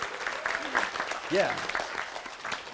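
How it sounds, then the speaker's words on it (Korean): An audience at a lecture on entrepreneurs claps steadily in a fairly close, continuous burst, while someone speaks briefly over the applause. "박수를 한번 보내주시면"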